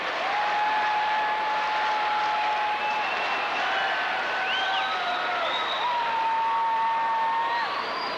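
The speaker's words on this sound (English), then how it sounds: "Listen to the crowd." Crowd noise fills a hockey arena during a Maine Mariners game, a dense continuous roar of cheering and applause with whistles and rising shouts threaded through it.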